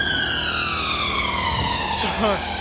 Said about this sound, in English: So while that siren just rudely interrupted my video